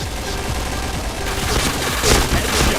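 Rapid bursts of gunfire in the PointBlank video game crackle close and loud over a dense noisy backdrop, overlapping shots firing in quick succession with heavier blasts toward the end.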